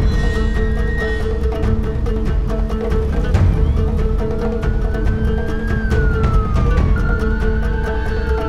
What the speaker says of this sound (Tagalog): Mabilis na dumating ang ambulansya sa pinangyarihan ng krimen.